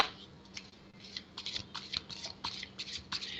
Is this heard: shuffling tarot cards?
yes